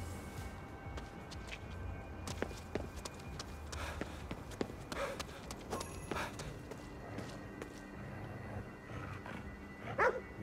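A dog barks a few times in Ghostwire: Tokyo, moderately loud over a busy background of game ambience, footsteps and scattered effects.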